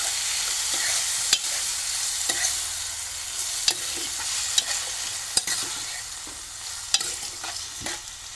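Cluster beans and pumpkin stir-fried in a pan, a steady close sizzle with sharp spatula scrapes and clacks every second or so, no voices.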